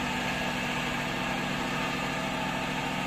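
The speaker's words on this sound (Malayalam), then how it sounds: "അവിടെ കംപ്രസറിൻ്റെ ഒച്ച കൊണ്ട് ഞങ്ങൾക്ക് കേൾക്കാൻ പറ്റുമോ അറിയില്ല" An air compressor runs in a car workshop, giving a loud, steady broadband drone with a low rumbling hum that never lets up.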